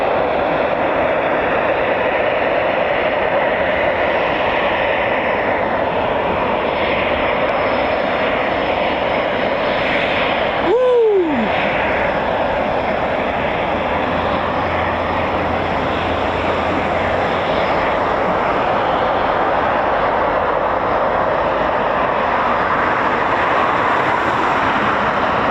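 Eurofighter Typhoon FGR4 jet at an RAF station, a sustained loud, dense engine roar filling the whole stretch, with a brief sharp whining tone sweep near the middle.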